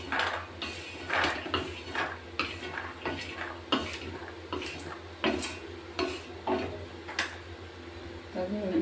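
Roasted peanuts are scraped and stirred out of a metal pan, a run of repeated rattling scrapes and clinks of spatula on metal in an uneven rhythm, close and fairly loud.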